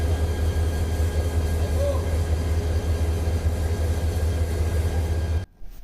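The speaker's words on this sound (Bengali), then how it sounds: "এই যে ট্রেনটা এখন আসতেছে" A train rolls slowly into Kamalapur railway station in Dhaka for coupling, a loud continuous low rumble with steady mechanical drone that cuts off abruptly near the end.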